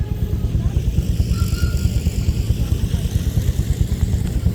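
Doodle bug, a homemade tractor cobbled together from an old car, running nearby at a steady idle with a low, lumpy pulsing engine note at a threshers reunion show, alone without talk.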